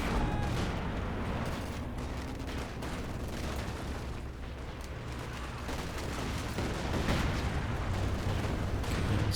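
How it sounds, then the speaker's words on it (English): Time-on-target artillery barrage in Company of Heroes 2 during a 4v4 battle in Lienne Forest, a dense continuous rumble of overlapping shell impacts and gunfire that stays loud throughout. "Looks like he's called in some kind of artillery."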